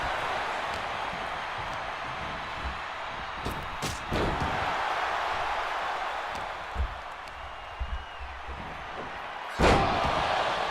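A wrestler slams hard onto the mat in the WWE 2K25 video game during a Royal Rumble, with a few sharp thuds over a steady arena crowd roar and one heavier impact near the end.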